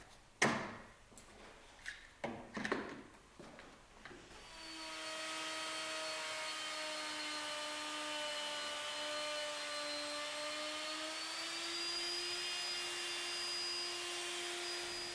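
A woodworking router on a Woodrat jig cuts a dovetail housing in wood: a few knocks and clunks while the work is set, then a steady, loud, high motor whine that holds for about ten seconds.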